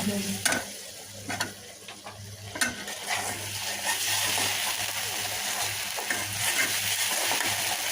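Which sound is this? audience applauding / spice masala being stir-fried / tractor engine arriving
spice masala being stir-fried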